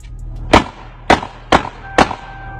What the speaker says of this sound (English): You can hear him fighting in the background before shots start going off